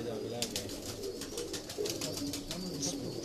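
Pigeons of a high-flying breed kept by fanciers in Pakistan coo and call repeatedly, close to the microphone, with voices talking underneath.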